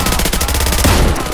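Rapid, dense gunfire in the Garry's Mod video game, with loud, continuous overlapping shots crackling throughout the short burst.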